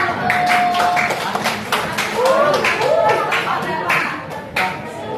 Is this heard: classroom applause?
yes